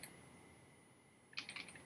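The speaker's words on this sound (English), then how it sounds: "let me just do some typing and see how that's working" A short burst of quick clicking keystrokes on a computer keyboard comes after a stretch of near silence. The typing is quiet and close, with no voices.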